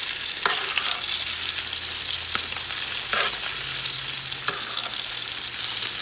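A tomahawk steak sears in oil and butter for a reverse sear, giving a steady loud hiss of frying with a few soft clicks and pops scattered through.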